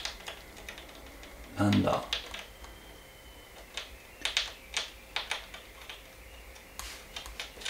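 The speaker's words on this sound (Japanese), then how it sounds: "なんか壁の向こう側からガサガサ聞こえるんですけど" Light scratching and rustling clicks come in irregular bursts from behind a wall nearby, with a brief spoken remark early on.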